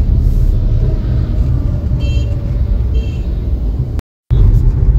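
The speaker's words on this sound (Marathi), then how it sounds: "आणि समोर अरे ट्रॅफिक आला." Road traffic sounds ahead on a highway drive heading onto the Mumbai–Pune Expressway: a steady, close engine and tyre rumble with faint distant horn toots and a brief dropout near the end.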